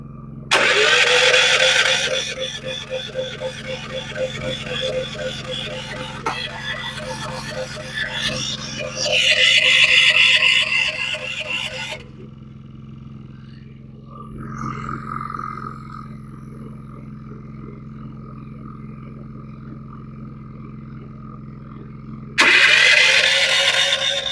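A small engine with a manual choke is pull-started for hurricane preparation, sputtering and roaring in loud bursts, then dropping to a quieter stretch before another loud surge at the end, with some talk in between.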